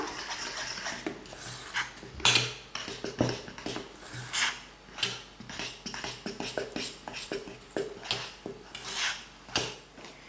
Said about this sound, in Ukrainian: сюди додаємо 9 столових ложок крохмалу. Розмішуємо тепер гарно.